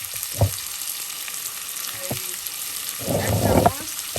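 A garlic clove and spices hit a hot pan while a catfish curry with bean seeds and tomato is being made. A few faint clicks come first, then a loud burst of sizzling rises near the end.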